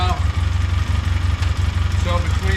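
A 2006 Polaris Ranger 700 utility vehicle engine idles steadily after loose throttle body and dirty fuel injector trouble, a close low rhythmic chugging pulse with faint background noise.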